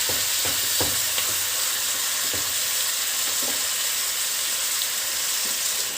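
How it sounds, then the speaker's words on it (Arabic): Meat sizzles in a pan with onions and spices for biryani, a steady loud frying hiss throughout with occasional light stirring clinks and pops, close and uninterrupted. "تحمر كده معايا شويه"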